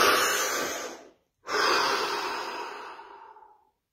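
A deep breath drawn in and then let out slowly during a guided stillness session: two long, soft, airy breaths close to the microphone, separated by a brief pause, the second trailing away gradually.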